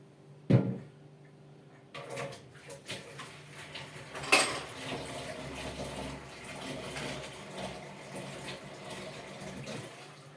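Dishes clatter and scrape in a basin with water sloshing, a sharp clank early on and steady washing noises throughout, close by, using spring water.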